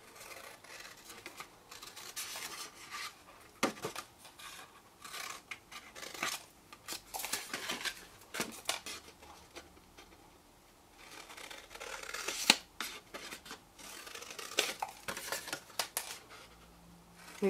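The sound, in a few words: cutting notches into card for a box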